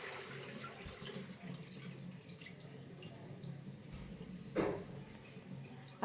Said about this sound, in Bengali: আর এইগুলো সবজিগুলো আমি আরেকবার ভালো করে সুন্দর করে ধুয়ে নিচ্ছি।